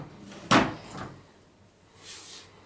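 An old wooden cabinet drawer is opened with a sharp knock and then a second, softer clunk. Faint wooden rubbing follows in a quiet room, and another knock comes at the very end.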